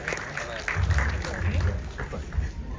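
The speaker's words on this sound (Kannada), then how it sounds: "ದಯವಿಟ್ಟು ಮತ್ತೊಮ್ಮೆ ಜೋರಾದ ಚಪ್ಪಾಳೆ" Audience applause at a film title launch event, steady clapping throughout with crowd murmur and a voice speaking over it.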